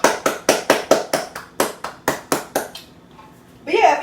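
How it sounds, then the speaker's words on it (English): Hands clap in a quick steady rhythm, about a dozen sharp close claps during a round of applause for someone who baked cornbread, ending with a brief voice speaking. "Round of applause for Magic."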